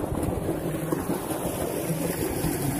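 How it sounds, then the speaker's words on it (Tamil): Water rushes steadily along a farm irrigation channel whose banks are lined with banana stems and stakes to stop soil erosion, a continuous close broadband wash with wind buffeting the microphone and no talking. "நேராக போகும் தண்ணி."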